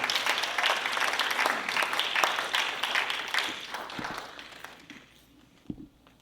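An audience applauds a performer who sang at a book signing; broad steady clapping fills the room for about four seconds, then thins out and fades near the end.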